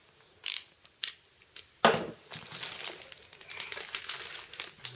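Screwing down an Ultra Pro screwdown 9-card holder: close crinkling plastic handling and small ratcheting, clicking twists in irregular bursts, with a sharper crackle midway and busy handling noise continuing to the end.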